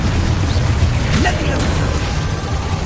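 The Confringo fire spell exploding in the game Hogwarts Legacy, a loud, dense rumbling boom with bursting crackle that fills the whole stretch at close range, with a brief voice cry mixed in.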